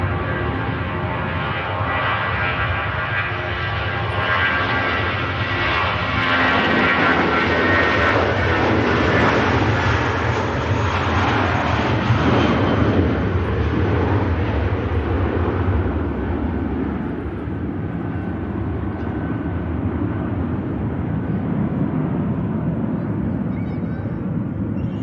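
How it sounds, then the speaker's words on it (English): Aer Lingus Regional or Emerald ATR? No—G-TTOB, a British Airways Airbus A320-family airliner, roars down the runway on its takeoff roll at Manchester Airport, a loud sustained engine rush that swells and then fades as it climbs away. "Golf Tango Tango Oscar Bravo on the departure roll."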